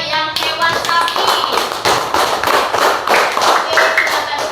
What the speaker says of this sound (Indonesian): Kasih tepuk tangan untuk temannya yang hewan sapi.